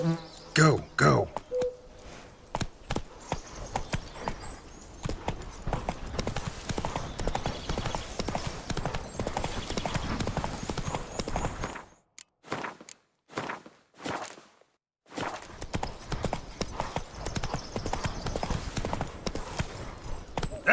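Geralt's horse Roach in the game The Witcher 3, hooves clip-clopping in a fast, continuous rhythm with insects buzzing around. The sound drops out briefly in the middle, and a voice is heard from time to time.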